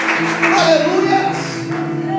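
A church congregation clapping during a sermon, quick claps mixed with a sustained musical tone and some voices underneath, fairly loud and close.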